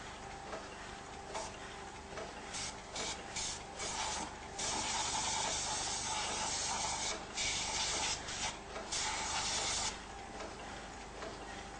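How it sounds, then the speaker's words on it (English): Compressed air hissing in repeated short blasts as it blows spray powder residue out of the emptied bowl unit on a 1988 Heidelberg GTO offset printing press, loud and close over a steady mechanical background hum. "Compressed air is then used to remove any residue."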